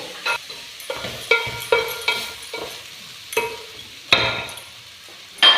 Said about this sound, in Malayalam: 2 തണ്ട് കരിയേപ്പില നന്നായിട്ട് ഇളക്കി 2 മിനിറ്റ് കൂടെ നമുക്ക് ഇളക്കി.